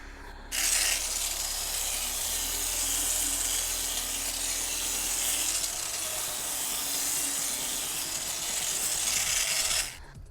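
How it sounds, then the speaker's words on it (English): A file rasps back and forth to round off a sharp edge on a part for a Boba Fett jet pack build, a continuous bright scraping heard up close for about nine seconds, no talk. "I'm just going to round off this sharp edge so that it's not a sharp edge."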